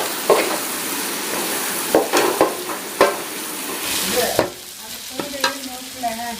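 Noodles cooking in a home kitchen, with repeated clanks of a utensil against the pan and a steady sizzling hiss, followed by softer frying and a few light clinks near the end.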